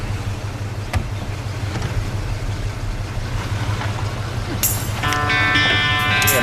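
A van engine idles with a steady low rumble at a front security gate, close and continuous, with a bright tonal alarm-like sound joining near the end.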